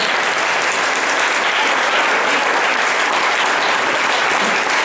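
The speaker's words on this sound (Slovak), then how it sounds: "Všetky tri dámy si zaslúžia veľký potlesk za svoj výkon." Prize-giving for three women winners at the Grand Prix 2014 Cabaj-Čápor, with an audience giving sustained, even applause, loud and dense throughout with no break.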